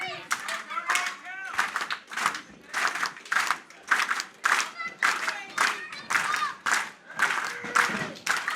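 A wrestling crowd at a Chaotic Wrestling event claps and chants in a repeating unison rhythm, the surges arriving in regular bursts about every half second under excited shouting voices.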